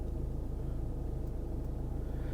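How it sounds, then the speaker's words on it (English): A Ford car engine runs with a steady, low, pulsing rumble heard from inside the car, even and unbroken throughout. "this is the car starting up"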